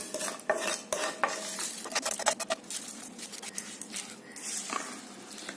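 Tempering spices are stirred into lemon vermicelli with a spoon, giving repeated scraping and clinking against the pan and faint crackling, fairly soft and close.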